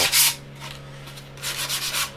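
Close, rhythmic rasping strokes of sandpaper rubbing against wood, a few quick passes with a steady hum underneath.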